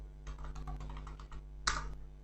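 Someone types on a computer keyboard while working in Blender, with a quick run of close, soft key clicks followed by one louder keystroke near the end, in a quiet room.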